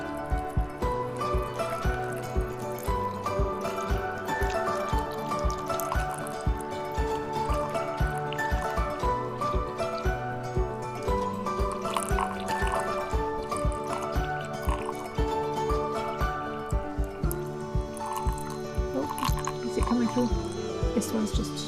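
Muddy water drips steadily through a row of stacked filters, a close, irregular patter that keeps on throughout, while people talk over it at length.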